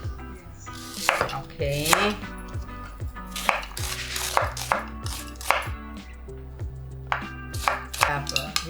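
An onion chopped with a knife on a board: a run of crisp, irregular chops, some in quick bursts, heard close over quiet background music, with a brief spoken word.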